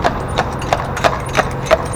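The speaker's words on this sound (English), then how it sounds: "It's a lovely horse." Horse hooves clip-clop at a steady walking pace, six distinct strikes spaced evenly and heard fairly close on a road, with faint background noise and no talk over them.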